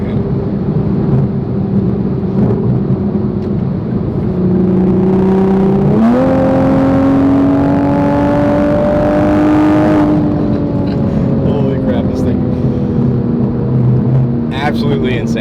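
A 2021 Toyota Supra A90 turbo fitted with an H&R catless downpipe drones loudly, then climbs in pitch as the revs rise, holds a raised whine for several seconds and eases back down, all close and continuous.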